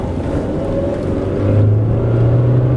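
A Hyundai Getz running on LPG, fitted with an aftermarket exhaust, revs up loudly from inside the car, its droning engine note climbing and holding steady.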